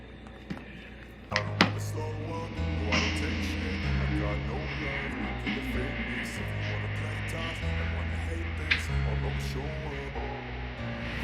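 Two solid silver spoons with tape on their bottoms are played as percussion, giving sharp clicks and taps over a steady, low melodic backing.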